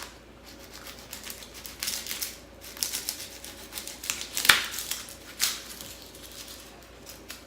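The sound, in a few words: serrated knife cutting the top off a head of garlic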